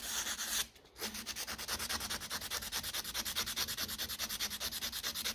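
A part from a Ferguson 20 TEF tractor diesel pump is rubbed clean with quick, even back-and-forth strokes. The scrubbing is close and steady, with a short pause near the start.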